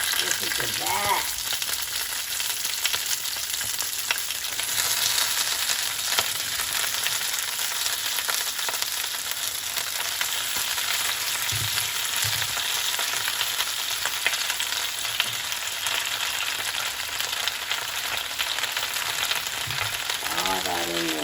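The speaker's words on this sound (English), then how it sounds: "I'm getting ready to start putting my cabbage in my skillet. You can hear it sizzle." Shredded cabbage sizzles and crackles in hot oil in a skillet for a vegan smothered cabbage, a steady close frying hiss that runs throughout with occasional stirring sounds and no talking.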